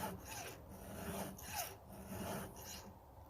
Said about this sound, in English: I'll just sharpen the chain